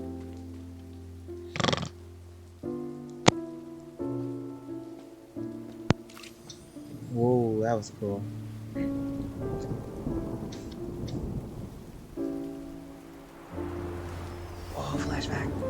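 Rain falls and thunder cracks in the Genshin Impact video game, with two sharp distant claps over steady pattering, mixed with game music and a voice talking briefly.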